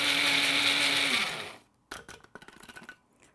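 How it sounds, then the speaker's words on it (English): A coffee grinder blitzes dried shrimp with a loud, steady high whine that winds down after about a second and a half, followed by a few faint rattles and taps as the ground shrimp settles. "So I'm going to blitz them in a coffee grinder until they're really,"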